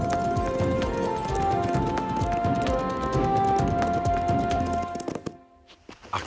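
Horses' hooves clip-clop in a steady, busy rhythm through a French cartoon scene on the plains, layered over sustained musical tones, then break off into near silence with a few scattered thuds.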